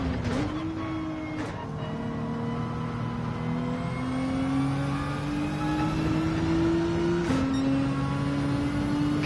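Race car engine in Gran Turismo 7 on a racetrack, holding a steady revving drone that slowly climbs in pitch, with a couple of sharp gear-shift breaks along the way and no voices.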